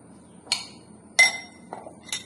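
A spoon clinking against a bowl while stirring a mixture, three or four bright, separate metallic taps spaced irregularly over a quiet background.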